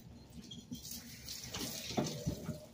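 Tap water runs over blue crabs in a sink, a steady close splashing that swells and gets busier toward the end, with a few wet knocks and no talk.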